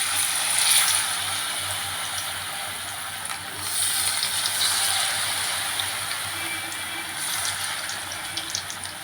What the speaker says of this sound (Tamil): இப்போ சிக்ஸ்டி ஃபைவ் ஒன்னா காளானை போட்டுக்குவோம்